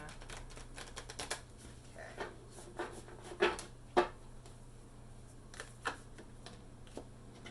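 A deck of tarot cards is handled and shuffled at close range, making quiet scattered clicks and soft taps at an irregular pace against a low steady background hum.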